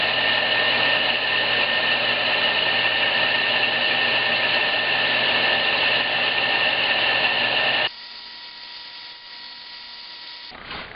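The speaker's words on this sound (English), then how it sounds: "I have another belt sander that I have set up, and I can use the rounded edge on that to do that inside curve" A belt sander shaping a wooden crankbait lure, a loud steady whirring drone that drops sharply in level near the end, then continues more quietly before cutting out, with no talk.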